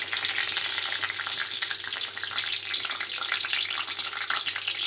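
Whole spices, cinnamon stick and bay leaf sizzling in fully heated oil for an aloo masala, a loud, steady crackling hiss close by that carries on without pause and with no voices over it.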